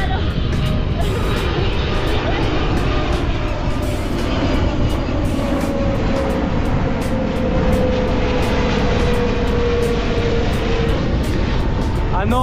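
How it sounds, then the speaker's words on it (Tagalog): An airplane passes overhead beside the airport near Bangkok, a steady broad engine roar that holds loudly through the whole stretch, mixed with outdoor traffic noise and wind along a bike lane. "Yan yung aeroplano!"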